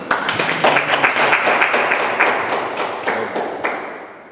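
Clapping from a small audience at an offline philosophy session, a sparse, uneven run of sharp individual claps, fairly close and distinct, fading gradually with no speech over it.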